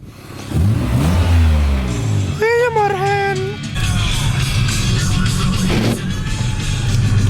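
A Romanian car drives and revs, its engine climbing in pitch as it speeds up, heard from inside at close range with a loud steady rumble, while people talk and one voice shouts briefly.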